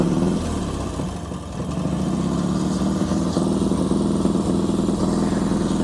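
Kickstarted motorcycle engine running in a collector's garage, a steady close throbbing idle with a slight dip and recovery in the revs, no talking.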